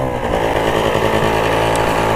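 A Rokon 2x2 motorcycle engine with a carburettor needing cleaning runs loud and close, its buzzing, uneven idle sputtering continuously throughout.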